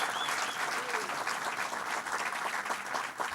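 Steady audience applause fills a New York City press event, a dense, even wash of many hands clapping at moderate volume throughout.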